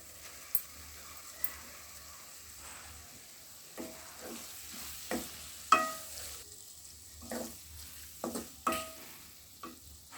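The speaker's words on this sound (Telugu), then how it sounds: "ఆల్రెడీ ఫ్రై చేసి ఉంచుకున్న ఈ బెండకాయలని యాడ్ చేసుకుందాం" Fried okra tipped into softened tomatoes in a pan for okra tomato curry, with a run of scattered scraping stirs and light clatters over a faint steady sizzle, fairly close.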